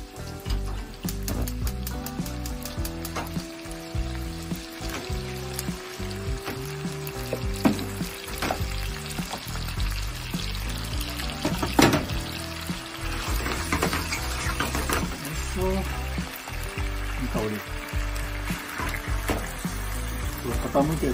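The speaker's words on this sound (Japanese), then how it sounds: "でちょっと強火にして、今度白ワインで少しフランベしようかな" Rosemary chicken sizzles in a pan over high heat before a white-wine flambé, producing a steady, moderate frying hiss with occasional liquid bursts, partly covered by background music and a speaking voice.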